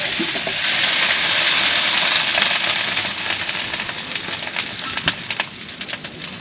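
Water splashed onto an overheating car hisses and sizzles in a broad steam rush that slowly fades, with scattered crackles and pops toward the end.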